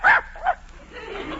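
A dog gives two quick barks in close succession on a 1948 radio comedy broadcast, then the narrow, low-fidelity sound fades into quiet.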